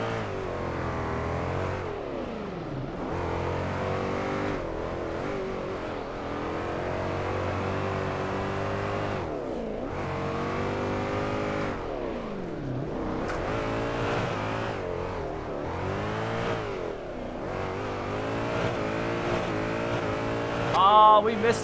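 Drift 21 video game: a 350Z with a V8 swap revs and drifts in a steady, continuous engine drone, rising and falling in pitch through repeated throttle sweeps, with a brief tire chirp near the end.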